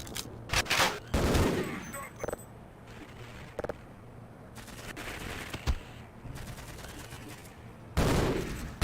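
Gunfire in the PS2 version of the video game Half-Life, sharp loud bursts of shots at the start and again near the end, with quieter sporadic shots and a low steady hum in between.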